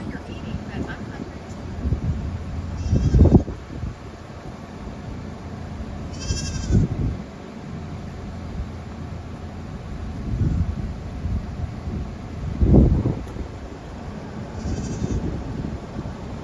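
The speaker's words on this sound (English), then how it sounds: "Hey, watch out for those goats crossing, man." Goats crossing a road on Anguilla Island bleat in several separate calls spread across the stretch, some near and some farther off, under wind noise and someone talking.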